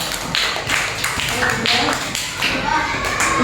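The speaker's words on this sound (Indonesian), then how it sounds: "Tepuk tangan yang meriah." A group of students claps in a classroom activity, giving brisk, uneven bursts of hand claps mixed with tapping, heard close and fairly loud with some chatter underneath.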